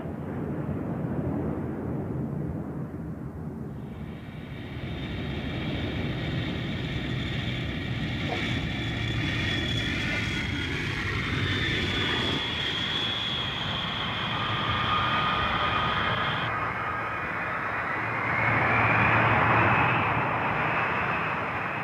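Tupolev Tu-95 bomber, a Soviet turboprop, passing overhead at a flypast: a continuous droning engine roar with a rising whine that swells and fades, heard alone.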